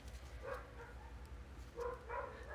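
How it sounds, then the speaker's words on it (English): Small puppies yelp and bark indoors in short bursts around the half-second mark and again near the end, faint and somewhat distant against a steady low room hum. "Sorry guys, you can hear my puppy babies."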